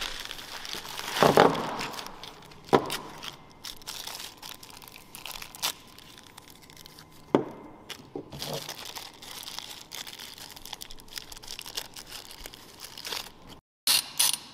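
A torque wrench tightens crank bolts on a turbocharged BMW M52 engine during a DCT swap, giving scattered ratcheting clicks and metallic clacks with quiet shop rustling between them.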